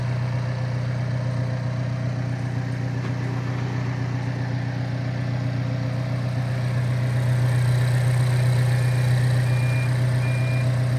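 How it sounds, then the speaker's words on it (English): A 2016 Alfa Romeo 4C Spider with a 1750 engine idles steadily nearby, a constant low, throaty hum with a slight swell in loudness toward the end and no voices. "Just hear that engine."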